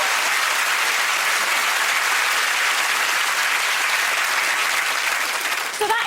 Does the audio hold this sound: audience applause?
yes